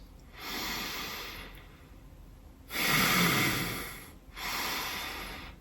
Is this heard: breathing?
yes